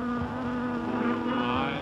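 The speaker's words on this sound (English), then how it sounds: "Oh, there's a bee." A bee buzzes steadily and close in an old 1947 comedy film, a continuous droning whine with no speech over it.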